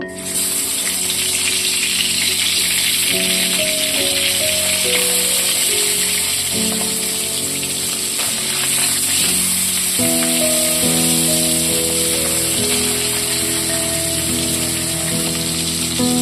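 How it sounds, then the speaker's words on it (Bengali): Hilsa fish heads sizzle steadily and loudly as they fry in oil in a pan throughout, with soft music playing underneath and no speech. "মাছের মাথা দুটো ভেজে নেব"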